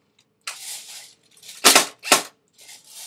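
A G&G G4A5 airsoft rifle fires on full auto, with sharp bursts of rapid clacking snaps, two especially loud close bursts among quieter rattling shots.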